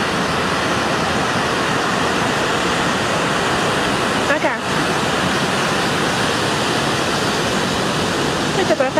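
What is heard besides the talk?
ocean waves breaking on the shore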